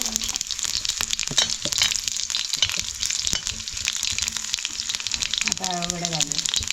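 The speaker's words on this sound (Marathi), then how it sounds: "राय आणि लसूण तडतडते" Mustard seeds and garlic crackle in hot oil on a wood-fired village stove, a busy close sizzle peppered with sharp spitting pops and clinks; a voice briefly breaks in near the end.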